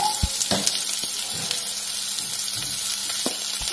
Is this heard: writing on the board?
no